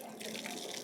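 Tap water runs steadily into a basin as hands are washed in Sri Lanka, a soft, even splashing heard faintly and alone for under a second.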